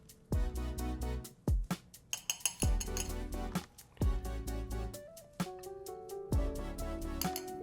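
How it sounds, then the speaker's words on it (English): A small metal serving spoon clinks and taps repeatedly against a cup of Turkish cezve coffee, bright ringing strikes in an irregular rhythm, close and clear. "In this case, I'm just going to use this small serving spoon."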